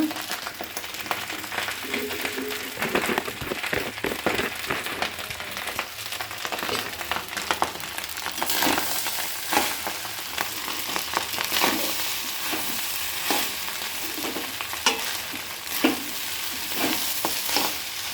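Rice frying in ghee in a pan on a home stove, stirred by hand, gives a steady loud sizzle with a constant scraping and stirring clatter throughout.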